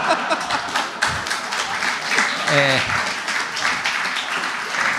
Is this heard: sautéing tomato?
no